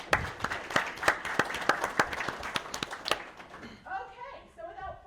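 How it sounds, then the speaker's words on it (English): Audience applause for contest winners at a mushroom seminar: a dense burst of clapping for about four seconds that thins out, followed by a voice talking near the end. "If you guys can give them a round of applause."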